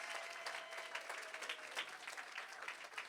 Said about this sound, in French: Si tu m'aimes encore, acclame s'il te plaît le Seigneur.